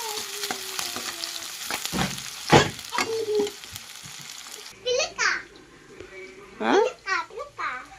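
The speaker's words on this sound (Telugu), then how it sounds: "ఇంకా అదేవిధంగా పచ్చిమిర్చి కూడా ఇవి కూడా బాగా ఫ్రై చేసేసుకోవాలి" Green chillies frying in a pan give a steady sizzle with occasional stirring knocks. A voice and adult speech are heard over it in the second half.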